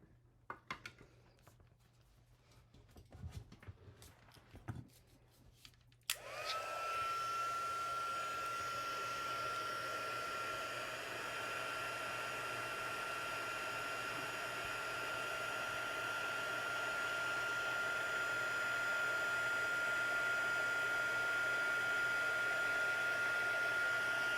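Embossing heat tool switches on with a sharp start after quiet handling noises, then blows a loud, steady whooshing drone with a faint high whine while melting embossing powder on a greeting card.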